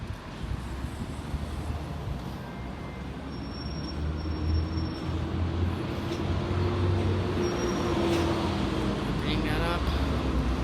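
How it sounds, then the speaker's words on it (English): A non-service bus pulls out of the Waverley bus depot, its engine a low, rumbling drone that builds gradually, with faint hissing from nearby traffic and a voice talking over it. "Here we have a non-service bus departing Waverley bus depot."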